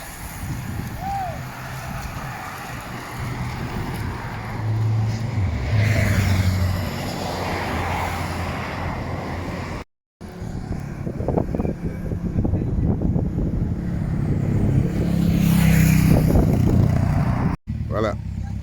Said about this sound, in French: L'ambulance qui ferme la marche.